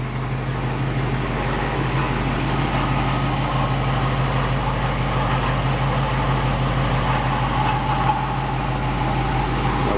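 A 1949 Fargo 4x4 truck engine idles steadily and loudly close by, a constant low drone with a faint whirring from a noisy water pump running under it and no break for the whole stretch.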